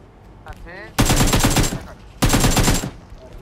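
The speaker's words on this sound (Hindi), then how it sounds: "मेरे पीछे इधर गोली चली।" Automatic gunfire in the online shooter PUBG: two loud, close bursts of rapid rattling shots, each about a second long, separated by a short pause, with faint game sounds between.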